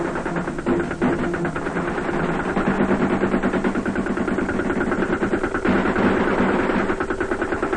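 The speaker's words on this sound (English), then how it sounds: "When the assault commences, accurate supporting fire can be brought down." Tank and infantry supporting gunfire from the Vietnam War era, with sustained rapid bursts of automatic fire rattling over a rumbling engine, dense and continuous with a brief break near the end.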